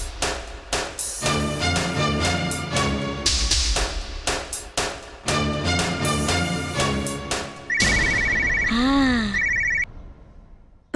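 A telephone rings during a Tamil television family drama scene, a steady electronic trill near the end following busy music and sound effects, loud and alone without talk.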